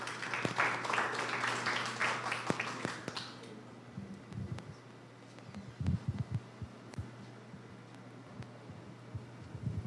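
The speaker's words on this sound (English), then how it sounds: "Let's give her a warm round of applause." Applause from a morning audience at a meteorological day event, welcoming a speaker. It is fairly strong for about three seconds, then fades into room hum with a few scattered taps and thumps.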